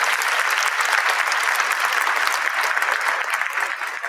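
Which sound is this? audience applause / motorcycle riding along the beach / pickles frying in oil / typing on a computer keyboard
audience applause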